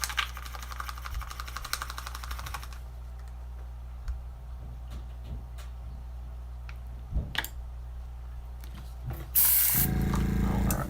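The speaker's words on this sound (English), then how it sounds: "I need to spray white over top of the black." A short hiss of an aerosol spray can painting white over black on a 3D-printed crankbait fishing lure near the end, preceded by quiet clicks and handling noises.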